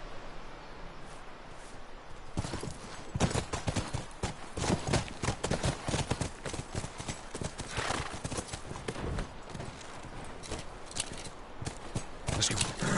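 Horse hooves clip-clop steadily in The Last of Us on PlayStation 4, a close, rhythmic run of hoofbeats with a whinny and faint footsteps mixed in.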